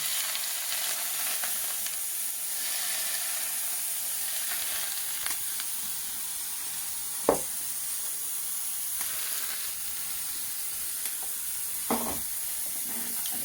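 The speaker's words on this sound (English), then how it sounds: "when we add it to our mix, it will just sizzle" Steady, soft sizzling hiss of hot oil poured over ginger and spring onion, continuous throughout, with a couple of brief clinks of a utensil.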